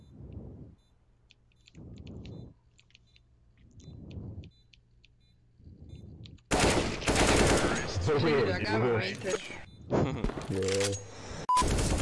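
Gunfire in an online shooter: four spaced bursts of automatic fire in the first six seconds, followed by loud, dense, chaotic game noise and shouting.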